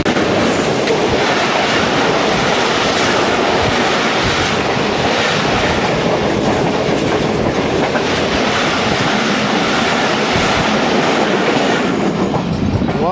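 The 8 Down Tezgam passenger train, led by an AJ30 locomotive, passes close by in Pakistan with a loud, continuous roar and rumble of wheels and carriages, faint clickety-clack underneath, steady for the whole stretch.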